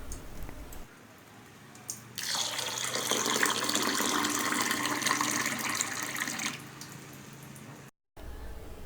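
Whole urad dal being rinsed by hand in a little water, a steady splashing, squishing swirl near and clear for several seconds after a quiet start, then a brief silence before faint sloshing resumes.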